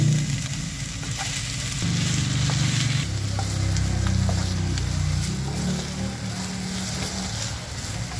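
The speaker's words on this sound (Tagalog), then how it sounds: "Ipapry muna natin guys yung ating patatas." Potatoes frying in hot cooking oil for pork igado, a steady loud sizzle with a low bubbling layer, continuous throughout with no talk.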